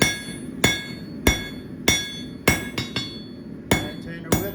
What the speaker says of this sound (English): Now we go with the flat side of our hammer.